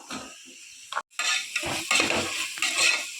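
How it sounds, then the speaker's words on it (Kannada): Chopped tomatoes frying in a pan for egg biryani, sizzling steadily while a utensil stirs and scrapes against the metal, with a brief pause near the start before the loud sizzle resumes. "ಇದನ್ನು ನೀಟಾಗಿ ಫ್ರೈ ಮಾಡ್ಕೋಬೇಕು"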